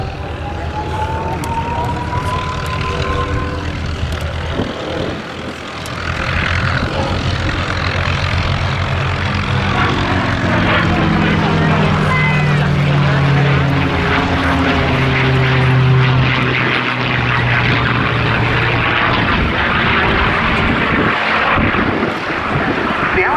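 A North American P-51 Mustang with a Packard Merlin engine flies past at an air show, its propeller drone rising and sweeping in pitch as it passes, with a voice commentating over the sound throughout.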